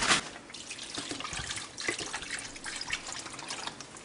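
Water pours and splashes into a pot for steaming broccoli, an uneven trickling and dripping stream with small splashes, close and continuous for a few seconds.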